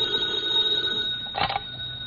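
A telephone bell rings briefly in a 1952 episode of the old radio comedy Fibber McGee and Molly, a short clear ring over a faint steady hum, with no talk.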